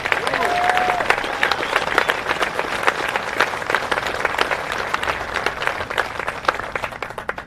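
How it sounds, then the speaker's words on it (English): A crowd seated in bleachers on a field applauds competitors at a military award ceremony, with dense, steady clapping sustained throughout and faint voices mixed in. "Please join me in a round of applause for all the competitors over the last week."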